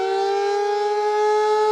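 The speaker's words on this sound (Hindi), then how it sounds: "हवाई हमलों की वार्निंग देने वाले सायरन बजाए जाएंगे, जैसे इस वक्त बज भी" A loud, steady air raid warning siren wails continuously on a single sustained tone during a civil defence mock drill, close and unbroken throughout.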